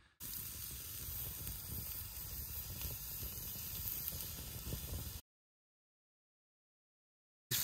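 Sirloin steak seasoned with salt, pepper and butter, cooking over a wood fire pit at a wild camp, giving a steady, close hissing sizzle for about five seconds before cutting to silence.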